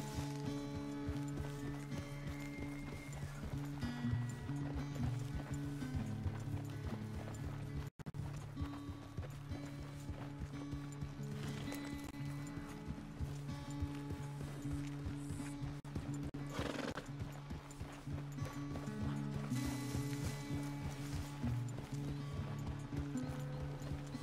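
A horse gallops steadily in Red Dead Redemption 2, with rapid rhythmic hoofbeats throughout that are partly buried under a sustained musical score.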